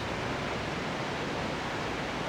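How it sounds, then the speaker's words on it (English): A waterfall cascades down a run of rocks beside a roadway bridge in the North Cascades, a steady, dense rushing roar of falling water with no breaks, close and full throughout. "The waterfall starts there. Cascades down all these rocks."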